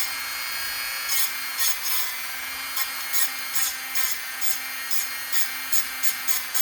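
A stainless steel SKMEI model 1123 watch band being ground, heard as a steady high whine from the grinder broken by short rasping bursts repeated at an irregular rhythm, close and fairly loud.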